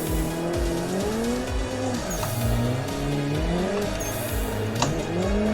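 A drift car in the Assetto Corsa racing game, modded and run on a drift track, holds a loud, steady engine whine with rising and falling revs under a constant tire squeal, with no talk.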